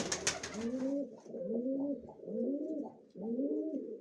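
Pigeons in a dovecote coo in four low, rolling phrases at a steady pace, close by and moderately loud, after a brief burst of noise at the start; no voices.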